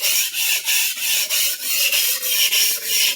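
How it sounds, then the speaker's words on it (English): A vintage Clyde Cutlery chef knife is drawn across a quartz sharpening stone near the heel, steady rhythmic scraping strokes repeating about every third of a second, close and loud. "going to do one more pass on this side of the knife in the heel area"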